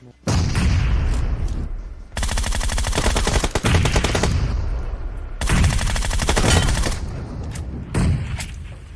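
Heavy, sustained automatic gunfire from enemy players in a multiplayer shooter game, loud close bursts with rapid repeated shots, briefly pausing between long volleys.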